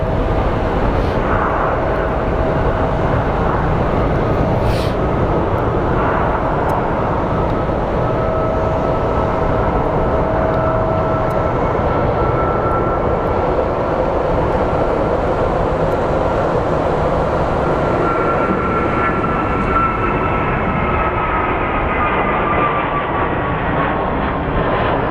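A WestJet airliner at Phoenix Sky Harbor International Airport, heard as a loud, steady jet engine roar with slowly shifting whining tones, sustained and fairly close, with no voices.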